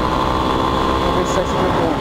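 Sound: car engine revving in third gear while driving

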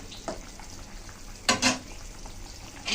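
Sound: curry with taro and puti fish cooking in a pan

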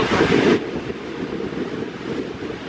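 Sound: wind and rain by a lake

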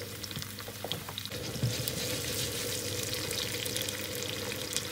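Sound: potatoes frying in oil in a pan

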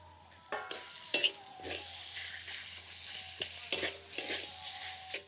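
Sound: stirring boiled katla fish with spices in pan

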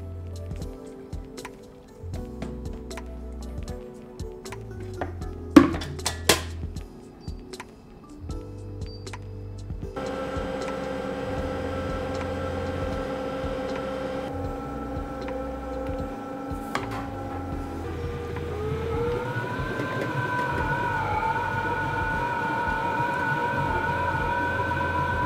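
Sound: ice cream machine churning apple cinnamon ice cream

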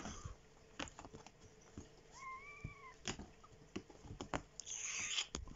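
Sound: kittens wrestling

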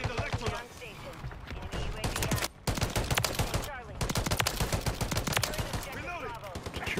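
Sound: MCW marksman rifle gunfire in a video game

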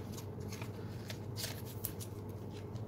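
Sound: putting Cardfight!! Vanguard trading cards into sleeves

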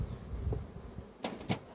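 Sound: Carniolan honeybees buzzing at hive

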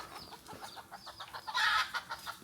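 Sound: wild chickens and roosters clucking

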